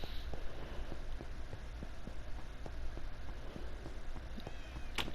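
Many tamed cats crowd a room in Minecraft, giving faint, scattered game-style meows among soft clicks and taps over a quiet background hiss.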